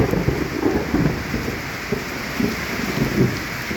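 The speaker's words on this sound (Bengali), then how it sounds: "মেঘের গর্জন।" Heavy monsoon downpour seen from a roadside stop while riding a motorbike, a dense continuous roar of rain with low rumbling swells of thunder rolling underneath, no talking.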